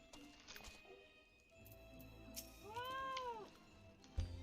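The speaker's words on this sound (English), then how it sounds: "that's the first time anyone actually gets to hear that follower alert" A follower alert from the video game Final Fantasy XIV: one short, bright tonal chime that arcs up and back down, sounding over quiet in-game ambience, followed near the end by a brief soft thump.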